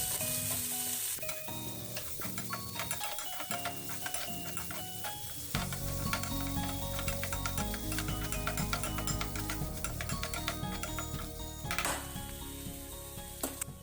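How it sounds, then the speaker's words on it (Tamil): Half a large onion with ginger-garlic paste sautéing in a pan for spicy mushroom pasta, a steady loud sizzle with occasional stirring scrapes and clinks, while background music plays throughout. "எல்லாத்தையும் இப்போ நல்லா வதக்கிக்கலாம்"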